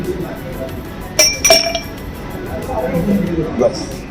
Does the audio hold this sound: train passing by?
no